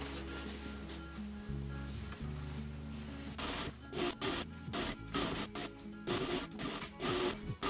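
A sewing machine stitches the fabric brim pieces of a bucket hat, starting with a low steady hum and then breaking into rapid, uneven bursts of close mechanical chatter.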